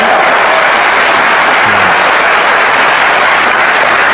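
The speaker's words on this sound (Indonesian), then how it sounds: "Kasih tepuk tangan dong, Calon Tong." A studio audience applauds, a loud dense wash of clapping that holds steady from start to end with no voices over it.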